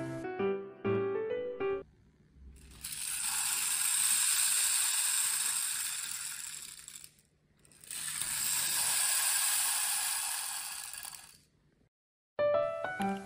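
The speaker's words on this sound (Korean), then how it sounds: "레인쉐이커의 연주법은 정신없이 흔드는 것이 아니라 양끝을 잡고" Two long cascading swooshes of beads trickling through a tube, each swelling and fading, with a short pause between and brief plucked notes before and after.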